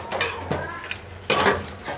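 Mutton and onions stirred in a pot, a utensil scraping and clinking against the metal in a few short strokes, with one louder scrape near the end, close and fairly quiet.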